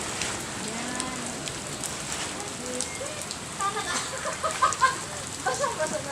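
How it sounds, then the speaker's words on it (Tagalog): Sudden rain patters on surfaces outdoors, a steady soft hiss of drops that grows busier and louder toward the end, with voices speaking under it. "Di, kalit lang ang ulan."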